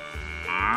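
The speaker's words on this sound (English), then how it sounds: "the sound of a cow" A cow gives one short moo, a low droning call that rises in pitch toward the end, clear and close.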